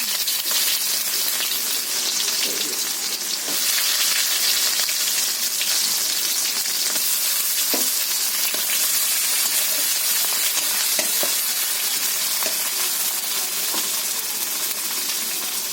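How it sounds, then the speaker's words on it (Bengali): Sliced onions fry in hot oil seasoned with a bay leaf, giving a loud, dense, unbroken sizzle up close, with occasional sharper pops and small utensil clicks scattered through it and no voices. "ওর মধ্যে আমি পেঁয়াজগুলো দিয়ে দিচ্ছি"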